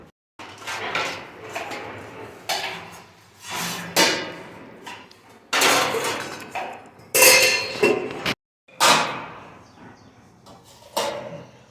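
Dishes being washed, with bursts of clattering utensils and clinking metal in uneven clusters, close and fairly loud, with brief pauses between.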